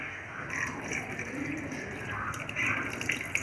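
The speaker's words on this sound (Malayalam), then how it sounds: "ഇനി വെള്ളം ഒഴിക്കണം." Water poured into a cooking pot holding backwater prawns for a roast, a steady splashing trickle running for several seconds, close by and fairly loud, with no speech.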